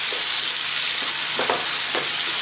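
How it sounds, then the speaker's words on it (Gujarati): Onion gently sautéing in oil over low heat, a steady soft sizzle with a couple of faint stirring scrapes, no talking. "ઓનિયન એડ કર્યા પછી ઓનિયનને પણ આપણે સાંતળી લઈએ. એકદમ ધીમી આંચે આપણે સાંતળવાની છે."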